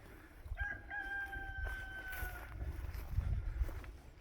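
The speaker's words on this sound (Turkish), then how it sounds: "horoz seslerini duyuyorsunuz." A rooster crows once in Gülpınar village, Ayvacık, Çanakkale, Turkey, a drawn-out cock-a-doodle-doo at moderate distance, over quiet outdoor ambience with light rustling.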